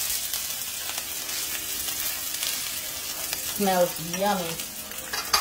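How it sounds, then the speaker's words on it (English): Ginger and shrimp sautéing together in a hot pan, a constant bright sizzling hiss heard up close, with someone briefly speaking over it near the end. "So I'm just sauté all of this together."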